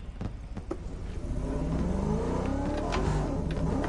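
A car engine in a racing video game with a five-speed manual gearbox starts up and revs steadily, a continuous loud rumbling whir that builds and holds with no talking over it.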